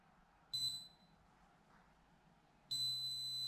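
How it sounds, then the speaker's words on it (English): Fingerprint padlock giving electronic beeps while being programmed: a short bright beep early on, a pause with faint background, then a long sustained beep that carries to the end. "it will give you a long beep with a green light"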